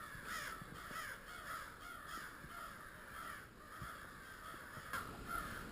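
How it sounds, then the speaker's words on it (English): Crows cawing outdoors in the woods, repeated harsh caws at a moderate distance coming in irregular bursts over a quiet background. "That's got to be what they're cawing about."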